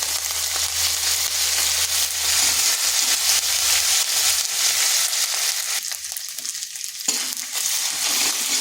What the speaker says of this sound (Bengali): আদাটাকে একটু ভেজে নিচ্ছি